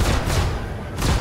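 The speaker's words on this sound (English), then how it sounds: "Firing missiles." Missiles launched from a spaceship in the space game Star Citizen, heard as loud, dense booming bursts, one near the start and another after a brief lull, with no talk over them.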